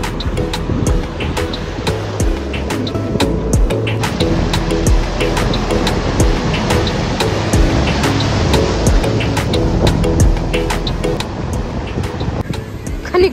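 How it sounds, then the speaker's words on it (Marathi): Strong waves breaking on a Goa beach near Cabo de Rama, a loud continuous roar of surf with wind buffeting, steady throughout. "लाटा बघ जोरात येत आहेत आता"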